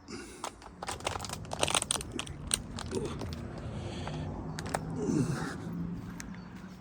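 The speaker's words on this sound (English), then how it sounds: "that's crunching my bottle of water up" Crinkling, crunching plastic water bottle in irregular bursts close by, being squeezed, over faint outdoor ambience in a meadow.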